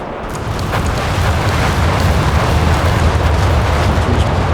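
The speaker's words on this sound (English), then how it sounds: "Bringing in the incendiary and the carpet bomb." Incendiary and carpet bomb explosions in Company of Heroes 3, a dense continuous roar of blasts and rumbling booms that stays loud and unbroken throughout, with no talk.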